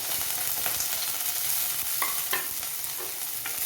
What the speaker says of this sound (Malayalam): ഉള്ളി വെളുത്തുള്ളി ഇഞ്ചി കറിവേപ്പില ഇട്ട് കൊടുക്കാം